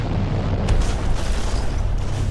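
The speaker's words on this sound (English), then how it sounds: "a powerful explosion shook tranquil Pasadena, California" A powerful explosion in Pasadena, California: a loud, sustained booming rumble with a sharp burst near the start, dense and continuous throughout with no voices.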